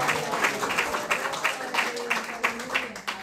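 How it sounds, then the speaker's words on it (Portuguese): Church congregation claps during a Portuguese-language service, a fairly loud, uneven run of hand claps with distinct accented strikes and some voices underneath. "Você pode aplaudir a Ele mais uma vez, dizendo glória a Deus"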